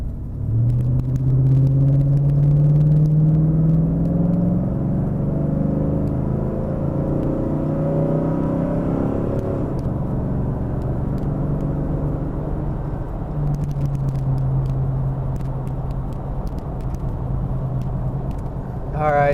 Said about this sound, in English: I'll accelerate a little bit harder and just kind of see where it shifts and how it shifts.